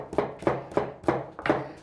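A knife chops an onion on a cutting board with about six crisp, evenly spaced knocks, close and clear, with no one speaking.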